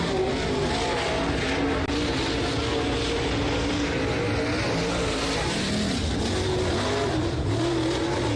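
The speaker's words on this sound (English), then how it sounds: "75 now making his way onto the track, needing the assistance of the push truck is Ronnie Saunders." A Steel Block Late Model race car rolls onto the oval track, its engine a loud, constant drone with steady rumble and no pauses throughout.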